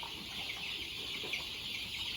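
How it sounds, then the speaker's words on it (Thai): Young chickens around 20 to 25 days old cluck and peep in a steady, dense flock chatter, moderately loud and close, with no voices present. "โอ้เนี่ยไก่อายุยี่สิบ ยี่สิบห้าวันครับวันนี้"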